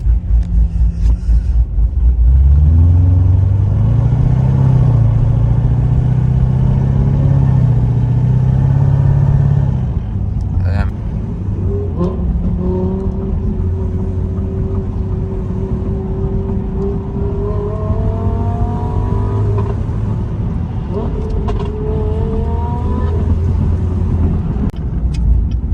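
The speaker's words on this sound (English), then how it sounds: "such a huge jump from just a little twin turbo V6 to this fucking chopping V8." Cammed Chevrolet Corvette C7 V8 pulling hard on a highway, its choppy idle-tuned engine droning loud and steady from inside the cabin, rising and falling in pitch through gear changes over roughly twenty-five seconds with no talking.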